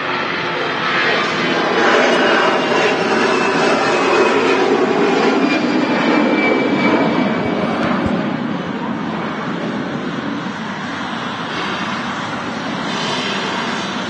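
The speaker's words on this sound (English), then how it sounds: "Ryanair 737 here. In from Malaga." A Ryanair Boeing 737 arriving at Manchester Airport from Malaga gives a steady, fairly loud jet roar with a faint whining tone drifting through it, heard continuously with no talking.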